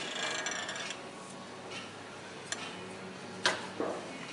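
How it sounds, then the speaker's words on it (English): A ratchet wrench clicks faintly to release the belt tensioner spring on a zero-turn mower, with light mechanical ticks and a few sharper clacks near the end. "ratchet the ratchet around to where you can unload that spring"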